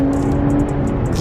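An Infiniti Q50 with a muffler delete revs hard at night, a loud, close, throaty engine drone held steady with a few sharp higher bursts on top.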